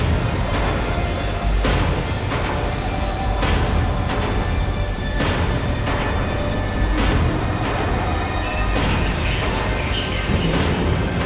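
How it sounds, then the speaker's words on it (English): Tram in the Max Payne 3 video game slowing down, a steady loud rumble of rail wheels with periodic rhythmic clatter and faint high squeal, continuous throughout with no talk. "Tram was slowing down, and I'd only just gotten on board."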